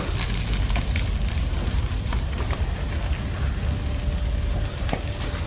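Something burns in an open fire, giving a dense, close crackle of sharp pops and snaps over a constant roaring hiss, sustained for several seconds without talking.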